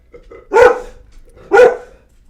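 A big dog lets out two loud, close barks about a second apart, each a full-bodied woof, with near silence between them.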